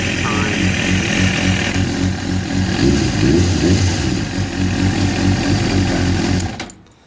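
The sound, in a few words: 2007 Kawasaki ZZR600 motorcycle engine revving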